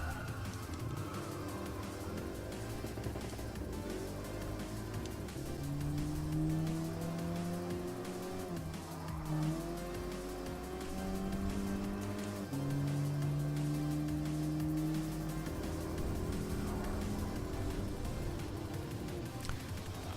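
An Acura NSX race car in Gran Turismo Sport drives a lap, its engine droning and rising through gear changes, with occasional tire squeal, steady and mid-level throughout.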